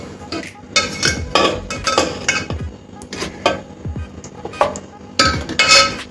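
Boiled taro is lifted out of a cooking pot with a metal utensil, producing repeated clinks and scrapes of metal against the pot and dish in an irregular rhythm, close and fairly loud.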